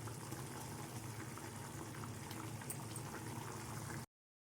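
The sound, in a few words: paneer bhurji masala boiling in a pan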